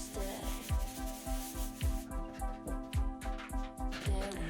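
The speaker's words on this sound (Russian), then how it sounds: "прохожусь по стене наждачкой 240" A painted wall is sanded by hand with 240-grit sandpaper, giving a close, rhythmic scratchy rubbing of repeated back-and-forth strokes about twice per second, with no voices.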